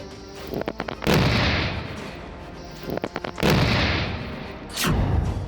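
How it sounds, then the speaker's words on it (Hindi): Three heavy booming IED blasts echo through open hill terrain, each a sharp loud explosion trailing into rumble, preceded by faint clicks. "पहाड़ियों के बीच का ये धमाका आतंकी साजिश के नाकाम होने का नतीजा है।"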